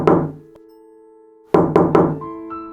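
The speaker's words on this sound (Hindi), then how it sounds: "एक ऐसी चीज जो दरवाजा खटखटाती है" Knocking on a wooden door: one sharp knock, a pause over a faint lingering tone, then three quick close knocks in a row, loud and with no talk.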